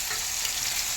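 Ground turmeric, cumin and coriander sizzling in hot oil in a pan, a steady close hiss of frying with no voices.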